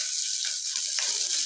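Sliced onions with a green chili sizzle in a pan for tomato rice, a bright, steady frying hiss that is close and continuous over a brief moment.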